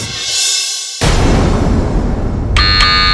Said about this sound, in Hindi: तुलसी मार दी बजर